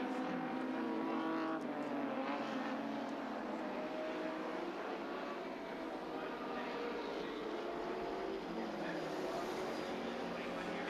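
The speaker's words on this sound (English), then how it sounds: "Fury's car with Glenn Seaton driving it still sounds sweet as a nut" Race car engine at the 1986 Sandown 500 touring car race, a distant, continuous engine drone rising and falling in pitch, with commentary voices faintly underneath.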